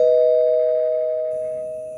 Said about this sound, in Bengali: আর ঠিক সেই মুহূর্তেই তার ফ্ল্যাটের কলিং বেলটা বেজে উঠল।